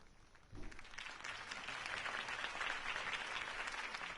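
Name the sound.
audience applause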